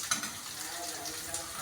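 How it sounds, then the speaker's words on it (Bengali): Potatoes fry in a pan with a steady, close sizzle and a faint metallic clink near the start, continuous and even for the short stretch. "আলুটা যখন একটু লাল লাল করে ভাজা ভাজা হয়ে যাবে"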